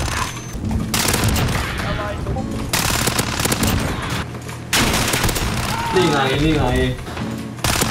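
A Fennec (Vector) submachine gun fires in Call of Duty: Modern Warfare multiplayer, letting off loud, rapid full-auto bursts separated by short pauses. A player talks between and over the shots.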